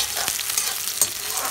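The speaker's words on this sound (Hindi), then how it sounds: "हम इसमें इसमें से प्याज डाल लेंगे, थोड़ी सी बचा लेंगे मसाले के लिए और इसको फ्राई कर लेंगे" Chopped onions frying in a pan for jackfruit curry, a continuous crackling sizzle with a couple of light stirring knocks, close and fairly loud, no voices.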